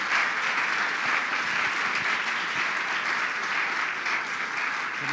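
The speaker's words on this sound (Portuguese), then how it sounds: "Queria que a igreja desse um aplauso a Jesus" A church congregation applauding during a Sunday celebration service, steady dense clapping that fills the whole stretch at an even level with no voices breaking through.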